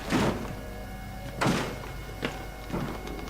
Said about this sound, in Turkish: Biri kapıyı zorluyor.